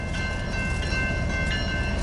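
A westbound BNSF freight train rolls past in Lincoln, Nebraska, its steady, loud rumble and rail noise continuous throughout, with a faint high tone riding over the roar.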